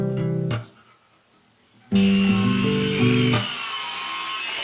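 Short bursts of hand sawing through material for skylight parts during building work, one stroke, a pause of near silence, then a louder, longer sawing pass that fades at the end, with no voices.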